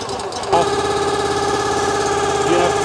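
A Wolfe Ridge 28 Pro log splitter engine starts on a cold day of about 25 to 30 degrees, catching after a brief rattle and settling into a loud, steady droning idle close by.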